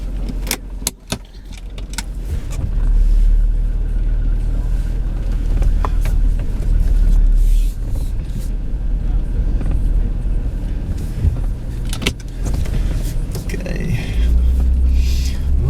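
Car being driven on roads in the Netherlands, a steady low engine and road rumble throughout with occasional clicks and rattles inside the cabin, no talking.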